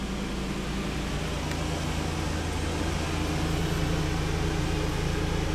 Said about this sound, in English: Believe me, this air conditioner works.